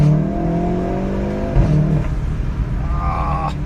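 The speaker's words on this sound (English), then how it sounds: "My favorite part about the car is the exhaust." A VW Golf 7.5 R exhaust drones loudly as the engine revs, tone shifting up and down with a sharp crackle midway, heard close and mostly alone.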